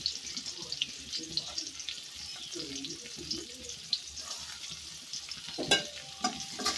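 Chopped onion and green chili sizzle in hot oil in a village kitchen while a fish curry is being cooked, a constant soft frying hiss with scattered stirring scrapes and someone talking quietly over it.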